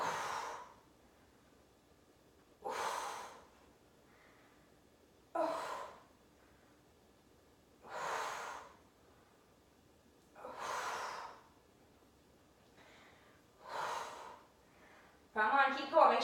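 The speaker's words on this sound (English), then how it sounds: "Big exhale on the way up." Heavy, forceful exhaled breaths during an ab workout, about six evenly spaced puffs a few seconds apart, close and alone with no talk between them.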